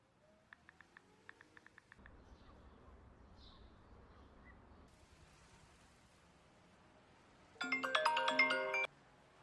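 A mobile phone ringtone from a missed call sounds near the end, a loud bright electronic melody lasting about a second, after a faint repeating chime earlier over quiet background noise.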